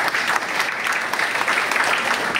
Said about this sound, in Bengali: ওনার জন্য জোরে হাত তালি আছে।